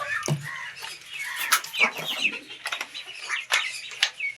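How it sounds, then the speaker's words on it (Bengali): Chickens on a small poultry farm clucking close by, overlapping irregular clucks and short squawks from several birds, with brief wing flutters and no talk. "এটা ছোটো মোটো আমার পোলট্রি ফার্ম, ভগবান চাইলে এটা আরও বড় হতে পারে।"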